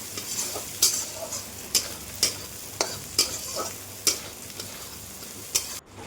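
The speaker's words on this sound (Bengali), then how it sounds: "এবার তেলের মধ্যে সয়াবিনগুলো দিয়ে দেবো লাল লাল করে ভেজে নেওয়ার জন্য" Soya chunks fry in oil with a constant close sizzle, punctuated by regular scraping clicks of a spoon stirring the pan.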